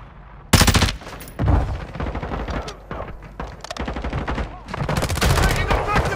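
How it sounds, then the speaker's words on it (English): Sharp bursts of automatic gunfire in the DMZ video game, rapid rattling volleys starting abruptly and repeating in clusters, loud and close with some quieter gaps between strings of shots. "Taking effective fire!"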